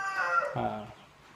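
A chicken gives a short, nasal cluck-like call up close, one brief vocalization that trails off quickly.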